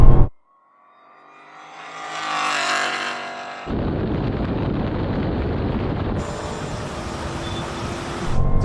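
A Ford Mustang and a Dodge Hellcat accelerating hard in a rolling race, a sharp thump then engines rising in a roaring climb, giving way to steady loud wind-buffeted rushing noise that swells again near the end.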